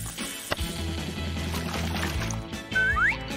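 Running water rinsing a doll's hair, a steady close stream with a small knock near the start and a louder splash of water near the end.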